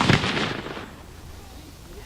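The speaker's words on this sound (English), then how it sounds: "we've been hearing the din of battle throughout the day as various reenactors fire off those cannons" Cannon fire from battle reenactors at an outdoor reenactment, a single heavy boom at the start followed by a long rumbling decay, moderately loud and distant-sounding, with no talk over it.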